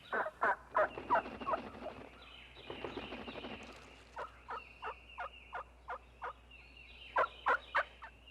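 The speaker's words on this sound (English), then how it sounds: "This hen's clucking is one of 8 basic calls in the turkey's substantial" Wild turkey hen clucking in short, sharp, evenly spaced notes, with a brief softer stretch in the middle, heard alone in an outdoor setting with no talking.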